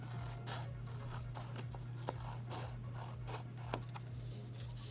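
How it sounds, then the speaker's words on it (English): Scissors snipping through orange construction paper in a quiet room, a soft repeated cutting rhythm with a few sharper clicks over a steady low hum. "Get my scissors in there and finish."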